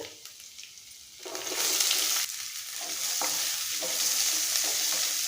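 Shallots drop into hot oil and start frying, a loud steady sizzle rising suddenly after a quiet moment, with some stirring scrapes, close by.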